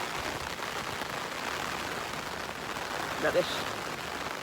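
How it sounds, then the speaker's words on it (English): Rain falls on an allotment garden as a steady, even outdoor hiss that continues throughout, with a quiet voice speaking briefly near the end. "this rain is supposed to last for the rest of today"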